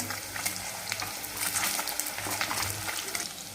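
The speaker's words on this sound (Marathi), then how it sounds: "हलक्या हाताने आपल्याला गोल्डन कलरवर थोडंसं शालो फ्राय करून घ्यायचं आहे" Paneer shallow-fries in oil in a pan with a continuous, moderately loud crackling sizzle and faint stirring scrapes. No one talks.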